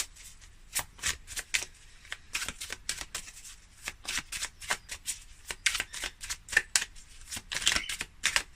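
Tarot cards shuffled close up in repeated riffling bursts with brief pauses between them, and no talking.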